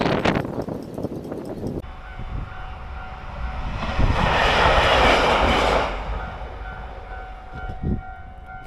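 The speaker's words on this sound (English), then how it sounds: "That was a small train." A small tram on the Hokkaido coast road toward Noboribetsu, heard as a rumbling, whooshing pass that swells to a loud peak midway and then fades, over steady outdoor background noise.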